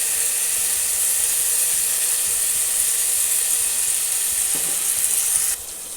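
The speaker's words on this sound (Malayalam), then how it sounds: "അരപ്പ് നന്നായിട്ടൊന്ന് മൂത്ത് വരട്ടെ" Spice paste for fish head curry fries in a pan with a loud, continuous close-up sizzle and hiss, easing slightly just before the end.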